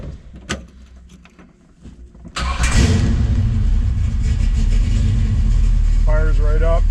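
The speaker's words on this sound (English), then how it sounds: "Fires right up, not even press the gas." A 1967 Chevelle SS convertible with a four-speed Muncie, sitting in neutral, cranks briefly and fires, then settles into a loud, steady, rumbling idle close by, with a voice speaking over it near the end.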